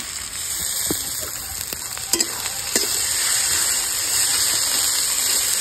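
Chopped tomatoes hitting a hot pan for a Bengali-style rohu fish curry with cauliflower, giving a steady loud sizzle with a few stirring clicks and scrapes, close up and continuous with no talk.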